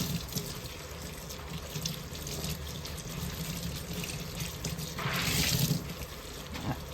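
Water runs steadily from a tap into a sink to give hand-dyed fabric a hot bath, a soft continuous splash that briefly grows louder and brighter near the end, with no talk.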